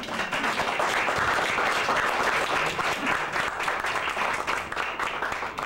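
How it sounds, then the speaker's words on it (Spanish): Audience at a Mexico City forum on airport bird-collision risk applauding a speaker, dense continuous clapping from many hands, close and loud throughout. "Le damos un aplauso, por favor."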